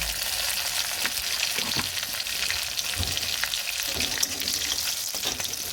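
Wild chechi greens fry in a pan with salt, giving a dense, even hiss of sizzling oil that runs steadily throughout with faint stirring clicks and no talking.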